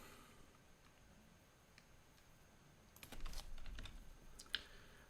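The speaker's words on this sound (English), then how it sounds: "you can hear me type because the microphone's right above the keyboard." Typing on a computer keyboard, picked up by a microphone directly above it: faint scattered keystrokes, then a denser burst of clicks with one sharper tap near the end.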